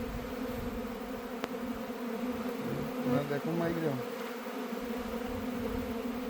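Honey bees buzzing densely around an acacia swarm from a hive, a steady close drone with a voice talking briefly over it.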